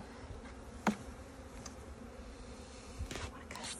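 Bees buzz around a newly set up hive fitted with a frame feeder, a faint hum with louder passes as individual bees fly close, plus a few brief knocks.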